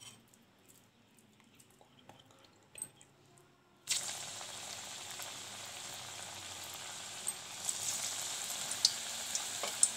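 Jackfruit pakoras dropping into hot refined oil in a kadai over a gas flame: quiet crackles at first, then a sudden, steady loud sizzle that keeps bubbling with occasional sharp pops.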